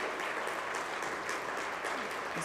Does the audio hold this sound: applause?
yes